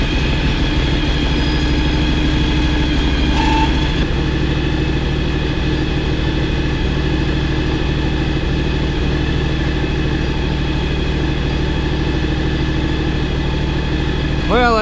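John Deere X724 lawn tractor engine idling nearby, a steady, loud, even rumble that holds throughout, with a brief rise in pitch at the very end and voices talking over it.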